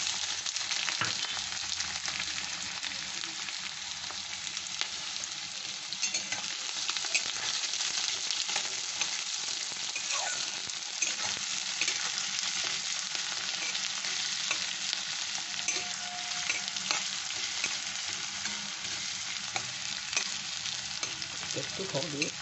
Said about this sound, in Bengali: এবার একটু নেড়ে ছেড়ে পেঁয়াজ কুচোনোটা দিয়ে দিচ্ছি।